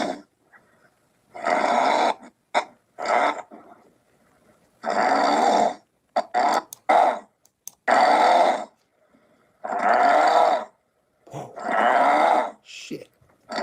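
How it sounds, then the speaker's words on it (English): A man's snoring plays back from a recording, a series of loud, rough, rumbling breaths repeating in irregular bursts with brief gaps between them. "And he snores like this."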